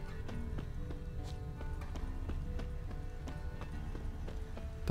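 Horse hooves galloping in The Witcher 3, a steady rapid clip-clop rhythm of repeated hoofbeats over a constant low background, moderately loud and even throughout.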